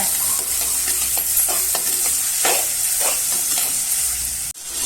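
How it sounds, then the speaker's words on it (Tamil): Onion, tomato and bitter gourd sauté in hot oil in a pan for a bitter gourd kara kuzhambu, a steady close sizzle broken by repeated scraping stirs. "தக்காளி சேர்த்து நல்லா வதக்குங்க."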